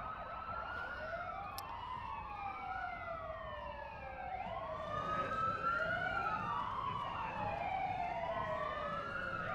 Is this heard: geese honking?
no